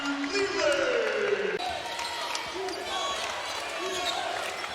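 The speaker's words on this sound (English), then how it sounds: "Miami crowd trying to inject some life into this place" Crowd noise fills a Miami college basketball arena during an ACC men's game, a busy murmur with sneaker squeaks and scattered shouts, heard under steady play-by-play commentary.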